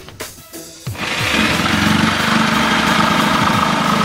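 A power saw starts with a few short revs, then runs steadily and loudly while cutting into a Honda Pioneer 1000 side-by-side panel, a continuous whining buzz close to the microphone.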